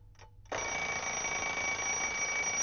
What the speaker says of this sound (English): When the bell rings, we can see it as well as hear it.